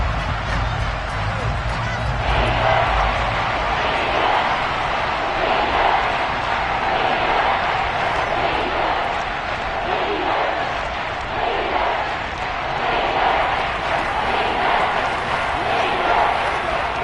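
A large football stadium crowd roars and shouts steadily while a replay is reviewed, a dense, loud wall of voices that holds throughout with an announcer talking over it.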